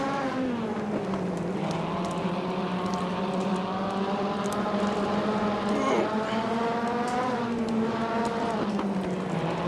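Wingless sprint car engines roar on the Bristol dirt track in the PS2 game Saturday Night Speedway, a continuous close engine drone that shifts in pitch as the car accelerates, with one short exclamation from a voice.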